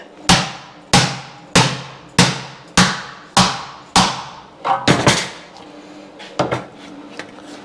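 A series of sharp, evenly spaced metallic hammer strikes while fabricating body mounts, about eight in a row, followed by a few lighter irregular taps, close and fairly loud.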